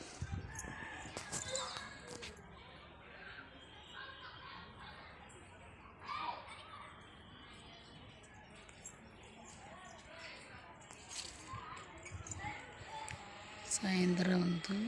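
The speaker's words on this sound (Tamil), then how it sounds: "நாட்டுக்கோழி மேயிறத பார்க்கலாம் வாங்க" Free-range native country chickens forage outdoors, with scattered clucks and a crow amid faint rustling, while a person talks over them.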